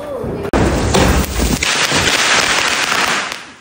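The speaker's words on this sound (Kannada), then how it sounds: "ಇದು ಯಾವ್ದೋ ಡಬ್ಬ ಪಟಾಕಿ" A firecracker bursts with a sharp crackling blast that trails into sputtering, hissing noise, fairly loud and close.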